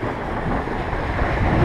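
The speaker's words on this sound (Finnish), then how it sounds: "Sieltä tulee taas iso aalto." Large waves churn and slosh around a boat on rough water, a continuous washing roar mixed with wind buffeting the microphone, steady and fairly close, no talk.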